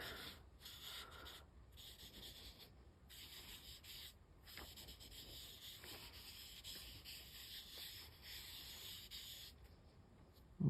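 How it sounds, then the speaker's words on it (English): A sponge dauber rubbing gilding leaf over ink splatter on a card, a soft continuous scratchy rubbing in short repeated strokes, close and very faint, with no voices. "I have a sponge dauber here, and I'm just going to rub this over my splatter"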